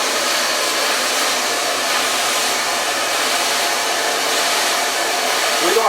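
A blow dryer runs continuously at close range, directing air onto a man's hair during a barber's haircut, a loud, steady broadband whoosh with no pauses.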